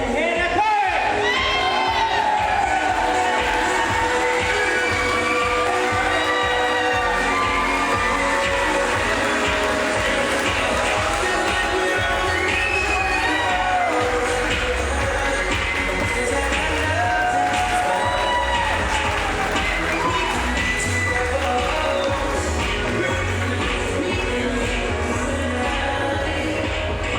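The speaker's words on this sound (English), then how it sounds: "if everybody can give a big round of applause for the reason we are all here, the new Mr. and Mrs. Brendon and Hannah Curry" Wedding guests at a Pittsburgh barn reception cheer, whoop and shout loudly for the newlyweds. The crowd noise is continuous, with bursts of excited yells, for nearly half a minute.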